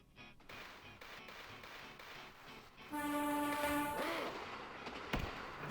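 A train horn blares loud and sustained in the Jet Set Radio video game, its layered tones rising over a rushing rail rumble before cutting off, then a final clattering knock.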